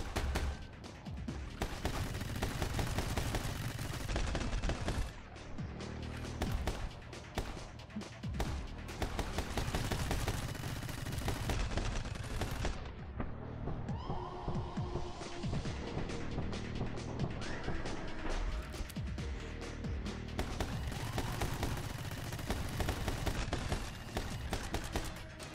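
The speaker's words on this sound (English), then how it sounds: "Okay, I guess dual pistols it is." Constant gunfire from dual pistols in the action game My Friend Pedro, dense rapid shots layered over loud game music and effects, continuing throughout with brief dips.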